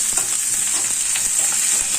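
Oil fries in a pan for tempering greens, a steady close sizzle with faint stirring, no voices.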